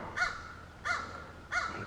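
Three loud caws from a crow, evenly spaced about two-thirds of a second apart, close by against a quiet outdoor background.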